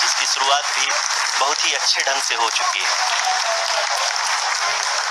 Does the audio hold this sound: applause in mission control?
yes